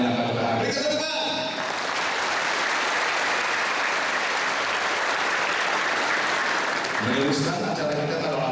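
Audience applause at an Easter Irau festival gathering in Long Bemang, a steady dense clapping that swells after a brief voice, then fades as speech returns near the end.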